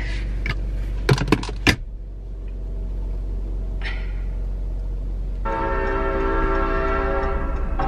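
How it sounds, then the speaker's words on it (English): A train passes nearby, with several short, sharp horn blasts near the start and then a steady rolling rumble of railcars that swells in the last few seconds. No one speaks. "great, there's a train"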